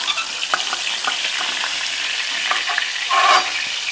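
Pointed gourd (parwal) pieces frying in oil, a steady hiss of sizzling with small crackles and a few scraping stirs, close by and without talk.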